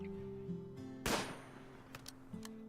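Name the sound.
rifle gunshots from colonist hunting in video game Rimworld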